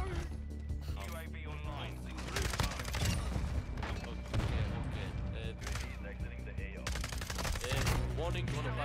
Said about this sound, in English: Firing shot.